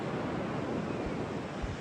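Atlantic ocean waves on the US East Coast washing onto the shore in a steady, continuous roar, with a soft rumble of wind and no voices.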